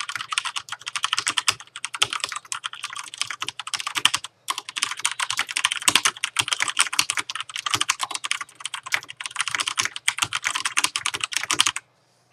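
Rapid typing on a mechanical keyboard, crisp clicky keystrokes in quick bursts with a brief pause midway, close up, no voices.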